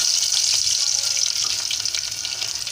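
Crushed garlic dropped into hot oil crackles and sizzles steadily, a bright close frying hiss that holds evenly with small popping flecks and no talking.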